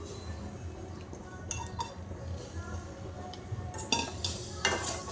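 Fresh cashews and potatoes being stirred in a pan after ginger-garlic paste, with a spoon scraping and clinking against the metal amid soft sizzling, sporadic knocks growing sharper toward the end.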